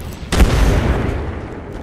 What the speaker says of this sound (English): Sending an Arc Star.